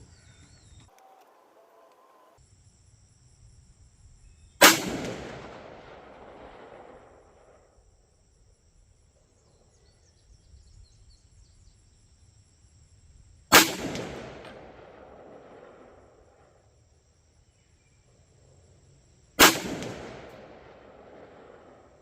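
A .300 Blackout rifle fires Palmetto AAC Sabre Blade black tip and FMJ ammunition outdoors: three loud, sharp shots spaced several seconds apart, each trailing a long decaying echo over faint insect-like background hum.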